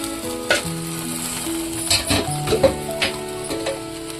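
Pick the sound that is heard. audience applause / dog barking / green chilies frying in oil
green chilies frying in oil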